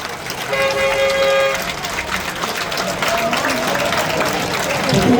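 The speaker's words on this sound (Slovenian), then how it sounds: "en velik aplavz" A speedway crowd at a Krško race applauds with a steady, broad wash of clapping and cheering, while a sustained horn toot sounds early on and crowd noise continues throughout.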